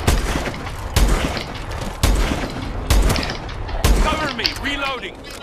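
Lynx gun in Call of Duty Advanced Warfare zombies mode fires five heavy booming shots at roughly one-second intervals, loud and close, with a voice talking over the gunfire.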